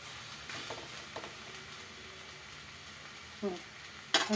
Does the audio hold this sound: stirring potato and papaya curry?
yes